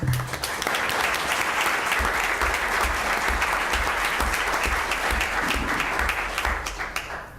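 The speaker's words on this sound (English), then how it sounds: "I think that deserves a round of applause." Applause from the audience at a Waukegan city council meeting honouring an outstanding library: steady clapping from a modest crowd lasting about seven seconds, tapering at the end.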